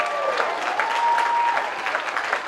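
An audience claps steadily at the opening of a national athletics championship in a stadium, a moderate wash of applause heard from a distance.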